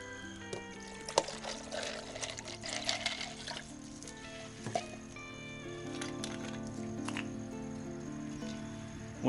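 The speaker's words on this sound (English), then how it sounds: "So we're going to pour a little margarita mix in there." Margarita mix pours into a drink machine in an RV, a steady liquid splash and trickle with small clinks and knocks, fairly quiet and alone.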